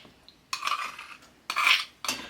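A utensil scrapes and clinks against a bowl in three short bursts while yogurt is mixed into a salmon rillette, close and clear with quiet pauses between.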